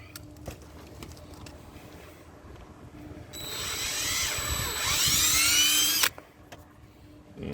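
A power drill spins up and bores for several seconds with a rising, whining pitch during rear air suspension work on a 1998 Dodge Dakota, then stops abruptly.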